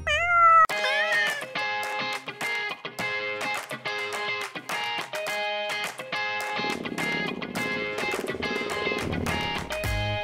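Cats meowing in a cartoon setting, a rapid series of loud, high, drawn-out meows one after another, with a noisier caterwaul toward the end.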